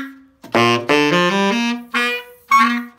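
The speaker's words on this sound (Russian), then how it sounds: "такой напряженный вот этот вот крик у саксофона" Saxophone played with a strained, squealing tone, several short loud bursts and sustained screechy notes with sharp attacks, close and alone without talking.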